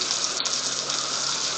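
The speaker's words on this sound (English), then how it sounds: "And the rest of that marinade I'm gonna pour on top of my vegetables." Marinade is poured from a container over vegetables for grilling, making a steady, close splashing gush that runs unbroken for over a second with no talking.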